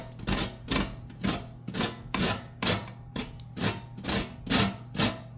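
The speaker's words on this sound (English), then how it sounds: "We need the zest of 2 lemons." Two lemons being zested on a grater for lemon bread, a close, rhythmic rasping with about a dozen even scraping strokes, each a short gritty swipe, with no voices.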